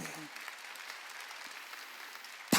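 A church congregation applauds through a Sunday service in an even wash of clapping under a speaking voice, ending in a sudden loud thump.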